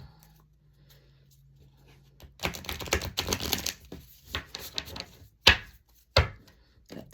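A deck of cards is shuffled close by after a quiet start, with a flurry of crisp riffling and slapping bursts followed by a few sharp separate snaps.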